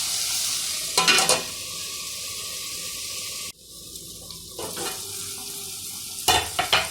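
Country egg and dry prawn curry frying in a pan, with a steady broadband sizzle broken by a few loud scraping stirs and one brief quieter pause midway, close and without talk.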